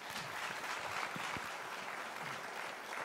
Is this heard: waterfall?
no